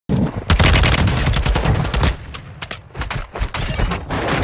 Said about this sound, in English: There it was. A precision airstrike.